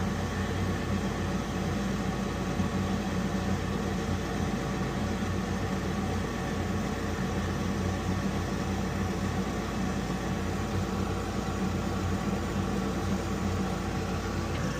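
A Weil McLain HE boiler's worn combustion fan whirs in a continuous airy drone with a low hum beneath, steady and unbroken for the whole stretch, with no talking.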